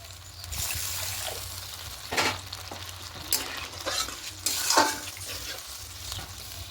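Water is poured into a pan of rohu fish curry, raising a couple of brief hissing bursts over the quieter stirring and simmering of the pan, close and alone without voices.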